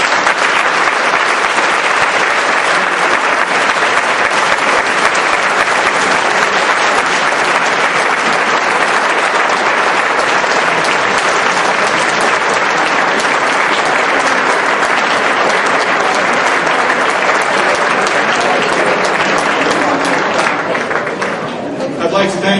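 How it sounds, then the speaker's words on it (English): Loud, sustained applause from a large audience at an awards dinner honoring First Amendment work, dense unbroken clapping filling the whole span before easing slightly at the very end. "Another round of applause for all of our honorees tonight."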